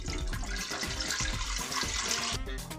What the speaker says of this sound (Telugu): ఇడ్లీ పాత్రలో కొన్ని నీళ్ళు పోసుకుంటున్నాను